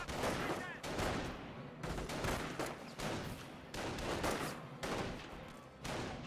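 MG42 machine gun firing in Company of Heroes, repeated loud bursts of rapid shots separated by short pauses, with battlefield explosions mixed in.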